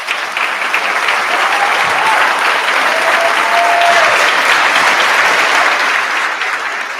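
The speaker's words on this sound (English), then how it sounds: "I ask you to give her a big round of applause" A large audience at a State of the State address breaks into a big round of applause, a steady, full roar of clapping that holds evenly for about seven seconds.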